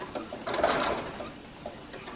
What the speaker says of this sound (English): I should have slowed down my machine